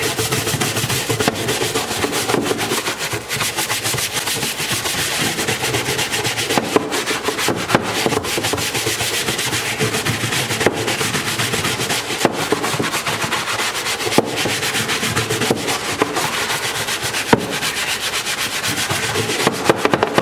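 Brush scrubbing a surface with dishwashing soap, a loud continuous rasping rub in quick back-and-forth strokes, close to the microphone, with no talk.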